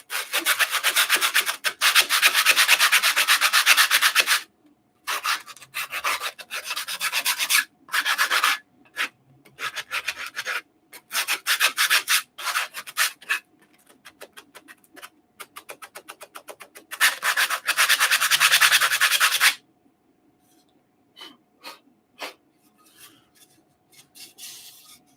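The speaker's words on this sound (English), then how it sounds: "This has got a bit of cleanup that needs to happen in here first with some sanding." A 3D-printed curved slat for a shoulder piece is sanded by hand in long, raspy strokes, broken by short pauses and ending in quieter, lighter rubbing.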